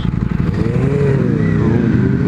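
Harley-Davidson motorcycles riding in a group, a loud close engine rumble with shifting revs and a rising tone as they accelerate, with faint voices underneath.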